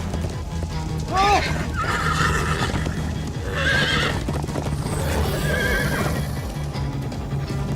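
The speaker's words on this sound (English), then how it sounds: "Slow down, horse!" In the video game Minecraft: Story Mode, a horse neighs loudly a few times over rapid galloping hooves, with voices talking in between.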